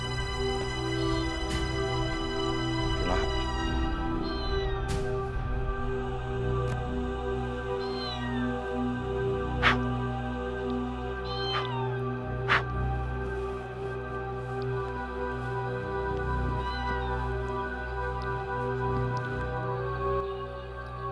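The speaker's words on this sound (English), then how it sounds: "Why am I continuously hearing the sound of cat?" A cat meows repeatedly at a distance, several short calls spread over a steady background hum, quiet and unaccompanied by talk.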